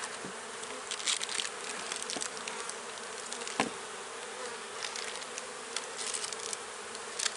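Honeybees swarm around an opened hive during an early spring inspection, a steady dense buzz with individual bees droning past close by, and no talking.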